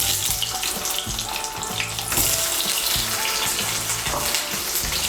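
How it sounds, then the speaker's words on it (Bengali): Boiled potato pieces frying in oil in a wok, a loud steady sizzle with bubbling and crackling that runs continuously and close up, without any talking. "কড়াইতে আমার যে তেল রয়েছে ওই তেলের মধ্যে আমি আলুগুলো ভেজে নেব।"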